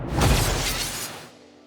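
A designed dagger scrape sound effect rings out as one loud, harsh metallic swipe and fades slowly into a long reverberant tail.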